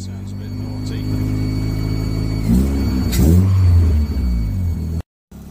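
A classic Mini idles steadily after an engine swap, a close, low mechanical hum with a couple of brief revs in the middle, then cutting out abruptly near the end.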